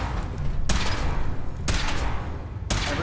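Heavy gunfire from the Fallout 4 video game: three loud broadband bursts, each opening with a sharp crack and trailing off into a rumbling tail, spaced about a second apart and heard alone with no talk.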